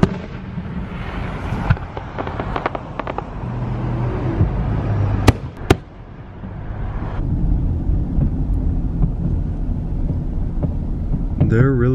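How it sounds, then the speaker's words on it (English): Fireworks bang and crackle in the distance, with a couple of sharp loud pops amid a rumbling outdoor background and some traffic noise. "They're really out here shooting the fireworks,"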